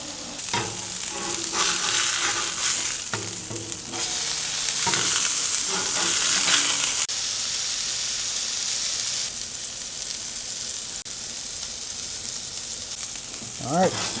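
Burgers sizzling on a Traeger pellet grill, a steady loud hiss and crackle with bursts of scraping and handling noises, ending with a short squeaky sound.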